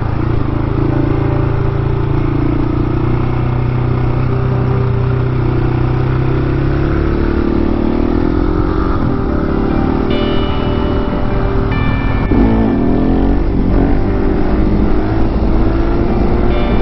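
A KTM 701 motorcycle engine roars loudly and continuously up close, its pitch climbing and surging near the end as the rider accelerates hard to lift the front wheel into a wheelie.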